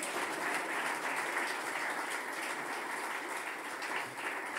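A church congregation applauds the word of God during a French-language sermon, steady sustained clapping from many hands filling the room, fairly even in loudness throughout with no voices standing out.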